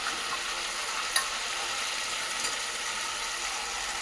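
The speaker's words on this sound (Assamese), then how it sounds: "এতিয়া মছলাখিনি ভালকৈ ভজা যোৱা, মই ইয়াতে জিকা আৰু আলু কাটি থৈছোঁ ডাঙৰ ডাঙৰকৈ" Ridge gourd and potato pieces frying with spices in a pan give a steady, bright sizzle and hiss, with a brief clink of a utensil partway through; no voices.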